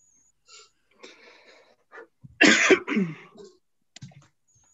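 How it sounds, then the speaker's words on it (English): A single strong, raspy COVID cough with a wheezy follow-through, close by, surrounded by quieter breaths and throat sounds. "Ah, a COVID cough."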